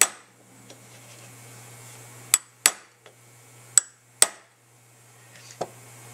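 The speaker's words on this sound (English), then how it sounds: "Dent the casting in a couple of spots." A hammer strikes a chisel against a metal valve casting, giving about five sharp, ringing metallic clinks at irregular intervals, close by, with quiet hum and a faint tap between them.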